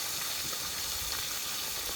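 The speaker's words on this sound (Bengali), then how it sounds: "বাকি মাছগুলো এখন একটু দেখি ভালো করে লাল লাল করে বড়া করে ভেজে নেব।" Chital fish fries in oil, giving an even, continuous sizzle at moderate loudness that holds unchanged throughout.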